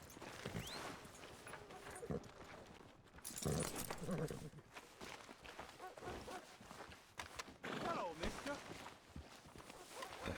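Horse hooves clip-clop in Red Dead Redemption 2 as a newly bought horse is mounted for a long ride, the irregular steps running under game dialogue and ambient sound.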